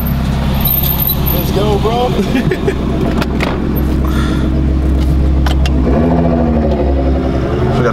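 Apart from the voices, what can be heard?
Nissan GT-R car pulling up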